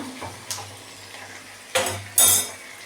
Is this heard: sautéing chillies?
yes